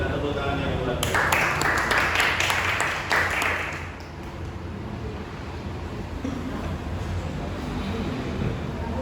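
Applause from a church congregation, a burst of clapping that swells loudly for a few seconds and then fades under a continuing room murmur.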